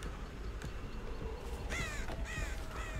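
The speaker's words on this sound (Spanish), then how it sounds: "Mierda, cuervos." Crows caw in the video game Dead by Daylight, a few harsh caws in quick succession over a steady rumbling ambient background.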